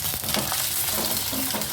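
Carrots and cauliflower fry and get stirred in hot oil in a pan for a homestyle vegetable dal, a steady close sizzle with scraping stir strokes and no talking.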